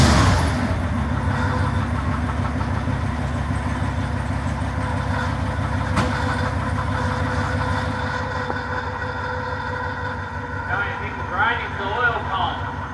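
A Ford 302 V8 idles steadily in an F150 pickup, a low rumbling engine drone that stays close and even throughout.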